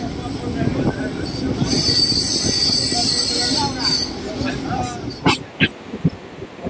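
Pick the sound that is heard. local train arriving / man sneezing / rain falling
local train arriving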